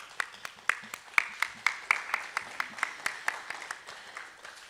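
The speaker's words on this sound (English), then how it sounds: "Let's give them a round of applause." A lecture-hall audience at a community college history talk gives sponsors a round of applause, a faint, thin patter of a few distinct claps in a fairly regular rhythm, heard from a distance.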